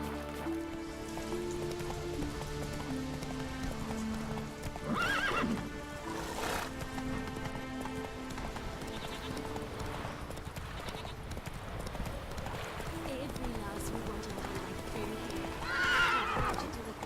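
Roach the horse in The Witcher 3 neighs and whinnies a few times over steady clip-clopping hooves, with a soft rain-like patter running underneath and a louder whinny near the end.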